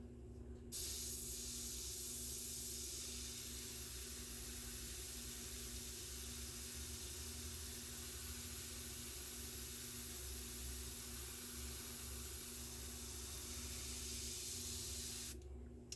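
Airbrush spraying paint onto a Losi XX-T RC car body, a steady soft hiss that starts abruptly, runs unbroken for about fifteen seconds and then stops, close and fairly quiet.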